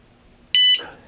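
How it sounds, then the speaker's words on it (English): A Fosman bike alarm gives one short, sharp electronic beep as it arms, bright and close, lasting about a quarter second against a quiet background. "All I do is hit this button right here, and it'll beep one more time."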